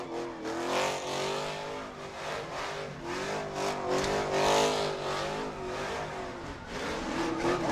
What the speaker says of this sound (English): Boy, that's one heck of a burnout there for Wrinkles.